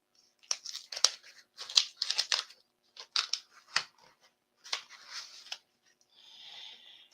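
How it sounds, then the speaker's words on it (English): Worn, loose scissors cut through paper pages at a desk, a close series of crisp snipping and rustling bursts in irregular groups separated by short pauses, with no talking. "So I'll just make use of this pair of janky scissors that I have."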